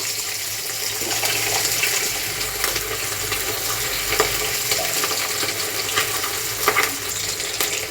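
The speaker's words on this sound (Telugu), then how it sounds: "ఒక్కసారి అవి నూనెలో బాగా వేగేలాగా కొంచెం వాటిని అడ్జస్ట్ చేసి పెట్టేస్తే" Chicken joints frying in a pan of hot oil, a steady close sizzle and crackle running the whole time with occasional small pops and stirring clatter, no talking.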